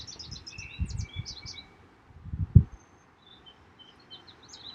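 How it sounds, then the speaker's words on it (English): Birds chirp and tweet in quick bursts at a moderate distance on a late-May morning, with soft rustling and low thumps beneath the calls. "enjoy the sound of the birds if you hear them. They're quite chatty here."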